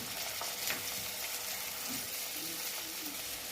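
Beetroot fries in a pan with a continuous, fairly loud broadband hiss and faint stirring movements throughout.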